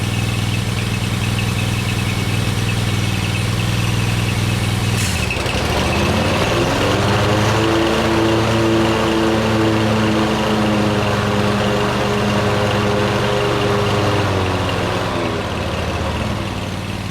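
A Cub Cadet lawn tractor engine runs close by, and partway through the mower blades engage with a thump. The steady engine drone then dips and settles into a deeper, heavier hum that holds to the end.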